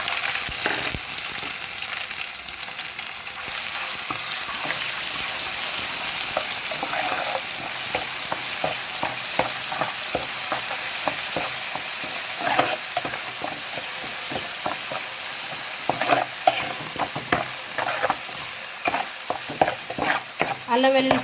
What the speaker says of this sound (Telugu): అల్లం వెల్లుల్లి పేస్ట్ ఆయిల్ ఫ్రై అవనిద్దాం.